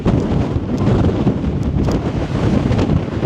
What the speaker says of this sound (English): this wind is too much